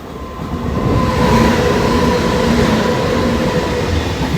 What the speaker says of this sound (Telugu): ఇదిగోండి ట్యాంకర్ గూడ్స్.